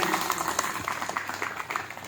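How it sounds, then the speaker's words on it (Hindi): An audience at a coal satyagraha protest gathering claps for the protesters in a short burst of moderately loud applause, with some voices mixed in. "बजा दीजिए भाई ताली उन सत्याग्रहियों के लिए।"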